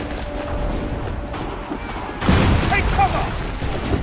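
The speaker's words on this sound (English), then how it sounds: "Incoming fire! They're firing!" Enemy musket or cannon fire booms out in Assassin's Creed III, a burst of heavy gunfire breaking in loudly midway over a rumbling battlefield, with shouting voices in the scene.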